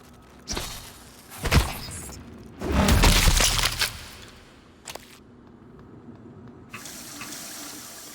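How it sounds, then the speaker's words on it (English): A water fountain in the video game Prey runs in short gurgling gushes that sound like a toilet flushing, with a louder surge in the middle and fainter trickles and clicks around it. "expect to hear that toilet flushing sound from the water fountains a lot more"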